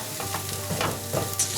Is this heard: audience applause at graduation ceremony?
no